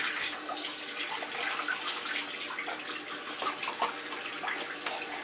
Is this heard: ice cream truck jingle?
no